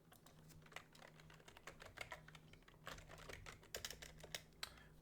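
Typing on a computer keyboard, close and quiet: rapid irregular clicks in bursts of keystrokes, with a faint steady hum underneath and no speech.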